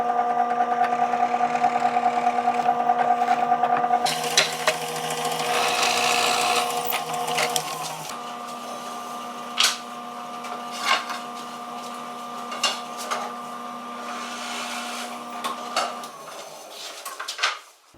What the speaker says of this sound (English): I have 148 of these holes to drill.